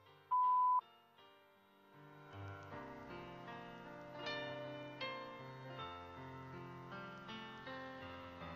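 A single steady voicemail beep sounds clearly for about half a second near the start, followed by music.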